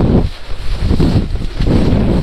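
Strong wind buffets a GoPro microphone during kitesurfing on choppy water, loud roaring gusts that swell and drop with brief lulls, with no voices.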